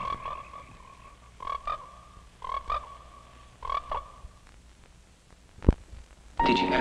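Frogs croak at a pond in a 1970s nature-horror film trailer, several separate throaty calls spaced a second or so apart, fairly loud and close, followed by a sharp low thump and a bright tonal sound at the end.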